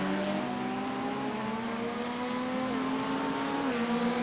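Race car engine at Daytona in a racing video game, droning steadily at a high pitch with gliding tones that dip slightly as gears shift, a continuous moderately loud whine heard alone without any voices.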